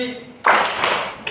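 Students in a classroom join in a call-and-response clapping game, a burst of many hands clapping together loudly for about a second, with a teacher's voice heard just before.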